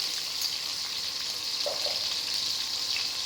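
Chopped onions fry lightly in a pan over a medium flame, giving a steady, soft, even sizzle throughout with no voices.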